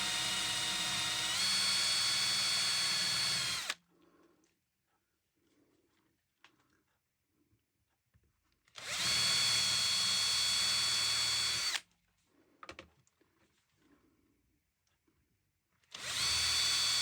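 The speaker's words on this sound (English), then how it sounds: "And we take our 10mm Forstner bit." A power drill with a 10mm Forstner bit bores into the wooden arm of a seven-string lyre, likely pine. It runs in three loud, steady bursts, with quiet pauses between them.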